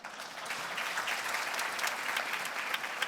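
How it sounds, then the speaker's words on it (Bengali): An audience at a Bengali folk song event bursts into sustained applause, dense steady clapping lasting throughout with no voices over it. "সবার জন্য জোরে একটা করতালি।"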